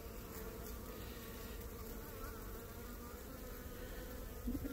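A cutout colony of honeybees swarms over the frames of their hive, a dense, steady buzz that stays close and even throughout with no talking.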